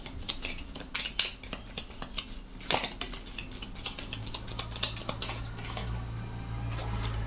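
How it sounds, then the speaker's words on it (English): Tarot cards are drawn and handled from a deck, a close, quiet stream of rapid flicking and shuffling taps with no talking. "let's get a couple cards from here."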